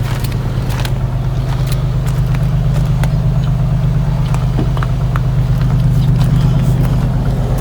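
An Infiniti car engine with a misfire runs steadily up close at an auction, a low droning hum with faint irregular ticks over it, no talking.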